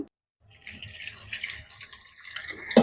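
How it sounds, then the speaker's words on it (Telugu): Water pours from a tap over a lemon-sized lump of tamarind to soak it, a steady splashing stream after a brief pause that swells and fades, close and alone. "తగినంత వాటర్ పోసుకొని చక్కగా ఇట్లా అంటే బేగా నానుతుంది"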